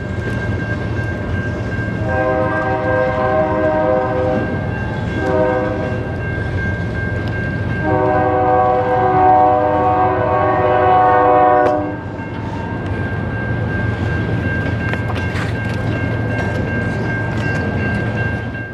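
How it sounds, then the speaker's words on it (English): A CN freight train rumbles past steadily on the CSX Barr Subdivision at Pine Junction, Gary, Indiana, its horn sounding in several long, loud blasts, with wheel and engine noise continuing after the horn stops. "this CN train had cost us something rather cooler rolling through the CSX bar sub."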